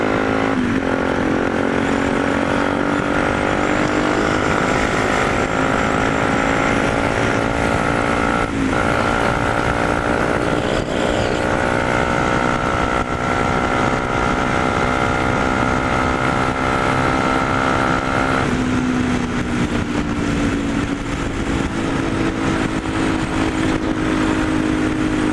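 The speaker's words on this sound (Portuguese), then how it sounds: "dar um rolezinho de moto. Tranquilo, dá uma acelerada" A Yamaha Ténéré 250 motorcycle rides at night with a steady, close engine drone that rises in pitch as it accelerates, with wind rushing against the microphone throughout.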